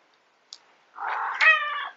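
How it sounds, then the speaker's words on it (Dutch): A pet cat meows indoors at home, one drawn-out, fairly loud meow with a rising, wavering tone lasting about a second, preceded by a faint click. "En het probleem is dat ze dan weer door die video loopt heen te miauwen."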